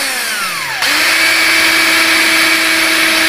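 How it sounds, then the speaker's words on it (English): Electric drill fitted with a 1/8 inch bit boring a hole in plastic Habitrail tubing for pinball ball guide rails: a motor whine winds up in pitch, then holds a loud, steady high drone while drilling. "Now it's a drill."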